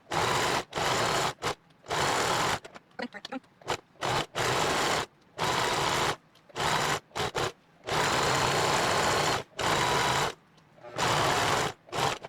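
A sewing machine stitches a fabric guinea pig pee pad in loud bursts of fast mechanical whirring, repeatedly starting and stopping with short silent pauses between runs.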